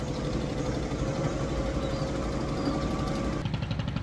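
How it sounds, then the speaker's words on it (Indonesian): Perahu ketek, a traditional wooden motorboat on the Musi River, chugs with its small engine running steadily nearby, a constant rattling putter lasting four seconds with no speech. "Disebut perahu ketek karena mesin dari perahu tersebut yang mengeluarkan suara seperti ini."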